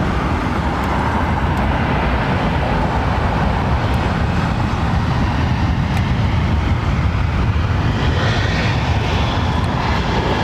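Singapore Airlines A380 airliner on approach to London Heathrow, a sustained loud jet engine roar with a broad rumble, steady throughout and mixed with faint road traffic noise.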